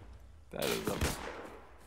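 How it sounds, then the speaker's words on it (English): Gunfire in the ArmA 3 military shooter, set in 1944 Normandy, erupts as a loud, close burst of shots lasting under a second, with a voice overlapping. "I'm just shooting at the smoke puffs"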